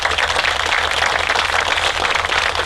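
A crowd at a corporate event for K-Flex USA, a thermal and acoustic insulation and gasket maker, bursts into dense, continuous applause, loud and even for the whole moment.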